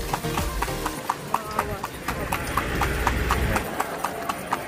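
Horse hooves clip-clop steadily while pulling a kalesa carriage through Vigan City, sharp regular hoofbeats ringing out under a background of people talking.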